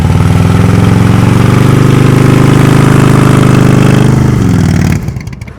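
Motorcycle engine runs steadily at low revs, loud and close, during slow-speed riding practice in second gear with the rear brake dragged, then drops away abruptly near the end.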